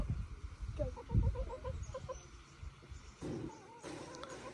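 A hen clucks in quick, soft, repeated notes at a rural farmhouse, set against low rumbling background noise.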